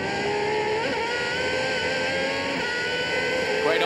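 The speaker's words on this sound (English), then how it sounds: "Great onboard shots there as Rigon wrestles with his car" Superleague Formula race car engine heard onboard, a loud sustained high-pitched engine whine with small shifts in pitch as the car is pushed hard, constant and close throughout.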